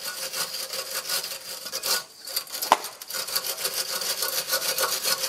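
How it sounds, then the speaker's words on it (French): A wire brush scrubbing a nut on a Renault Twingo brake gives rapid back-and-forth rasping strokes, close and fairly loud, pausing briefly midway with one sharp tap. "Voilà, un coup de brosse."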